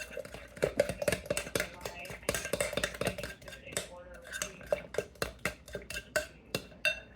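A spoon scrapes and clinks around a bowl as coleslaw with onion is stirred, giving quick repeated rhythmic strokes up close, with a voice speaking softly at times.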